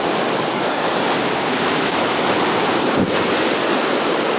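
A swift river rushes steadily outdoors near a creek, a dense, constant roar of moving water with no voices over it.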